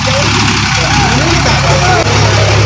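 A loud, steady low rumble of a very long, empty truck's engine idling up close in heavy rain, with a voice talking over it.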